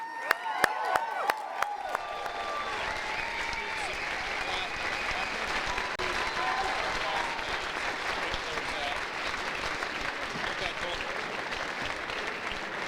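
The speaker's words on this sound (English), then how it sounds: "one final round of applause" A large audience applauds at a live unveiling event for the Roots of Knowledge windows at UVU, with a few sharp early claps swelling into a dense, steady ovation that runs throughout, with some crowd voices mixed in.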